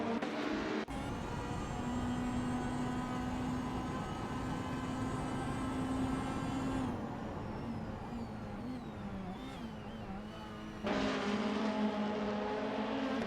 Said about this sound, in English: Let's watch these R-driven cars race to the finish line.